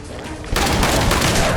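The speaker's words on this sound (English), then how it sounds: "very satisfying to unleash 3 shells in quick succession" Triple barrel shotgun loaded with incendiary shells in a first-person shooter, a loud blast kicking in about half a second in and holding as a dense roar of rapid shots and fiery crackle.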